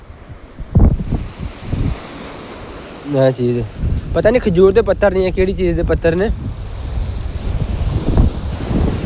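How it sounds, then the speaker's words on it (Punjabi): Sea waves wash onto a stony beach on the island of Sardinia, Italy, a steady broadband rush heard under someone talking close by. "ਇਹ ਸਮੁੰਦਰ ਦੇ ਵੀ ਛੱਲਾਂ ਦਾ ਵੀ ਆਪਣਾ ਹੀ ਇੱਕ ਸਾਊਂਡ ਹੈ ਜੀ"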